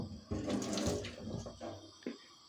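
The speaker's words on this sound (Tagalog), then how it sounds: "Ang bawang, ang sibuyas. Hugasan natin." Tap water running over garlic and onion being washed in a kitchen sink, a steady splashing stream with a few shifting splashes as the bulbs are handled, close and alone.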